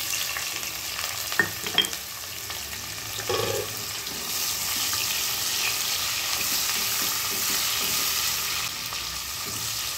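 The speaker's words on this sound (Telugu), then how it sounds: "ఆనియన్స్ కొంచెం గోల్డెన్ బ్రౌన్ వచ్చేదాకా వేయించాలండి." Onions fry in hot oil with garam masala for chicken curry, a steady close sizzle with occasional stirring scrapes and clinks, and no talking.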